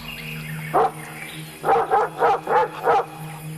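A dog barks once, then after a pause lets out four evenly spaced barks at moderate distance over a low steady hum.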